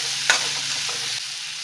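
Poppy seeds, cloves and cinnamon frying in a pan, a steady close sizzle with a quick stirring scrape near the start, heard without any voices.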